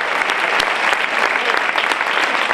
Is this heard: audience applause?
yes